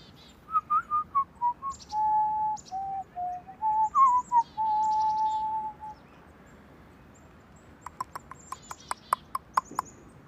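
A chickadee calls outdoors in a calm natural setting with short, high chirps, alongside a longer run of steady, wavering whistled tones and a quick burst of sharp clicks near the end.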